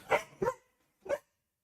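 Dogs bark three times nearby in the West Virginia countryside, two quick barks followed by a single one after a short pause, loud and clear with no talking.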